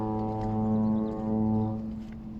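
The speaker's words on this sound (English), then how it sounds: "be able to hear the sea and foghorns echoing out in the bay" A deep, steady foghorn drones across a foggy bay by the sea. Its layered, sustained tone swells slightly and then fades near the end, sounding distant and echoing.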